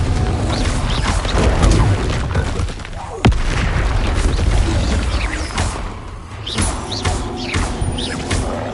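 Repeated Confringo fire-spell blasts in Hogwarts Legacy, a dense, loud run of booming explosions and crashes with one sharp crack near the middle, layered and continuous with no talk.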